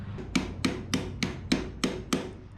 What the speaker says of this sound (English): Carpet shears and a hammer.